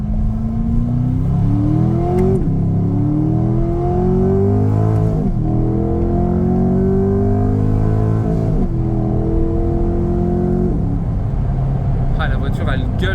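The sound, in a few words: Chevrolet Corvette C8 engine roaring while accelerating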